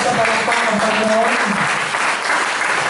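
Congregation at a church service in the Philippines bursts into loud, sustained applause, dense clapping filling the whole stretch with a few voices calling out underneath.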